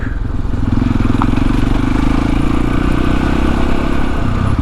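Husqvarna SMS630 supermoto motorcycle engine running close by, a loud, steady, throbbing single-cylinder thump with a rapid even pulse and mechanical clatter, held without pauses and no voices.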